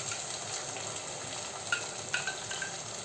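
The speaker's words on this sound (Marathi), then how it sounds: "आता ही पेस्ट छान परतून घ्यायची आहे" Garlic, coconut, coriander and cumin paste sautés in hot oil, giving a soft, steady sizzle with a few faint spoon clinks and scrapes, heard up close with no talking.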